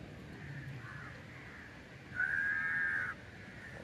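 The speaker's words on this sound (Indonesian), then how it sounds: "di sini banyak banget burung gagak" Crows caw at dawn in Kuala Lumpur near the city tower, a few soft calls early on, then one louder, drawn-out caw standing out over quiet morning ambience.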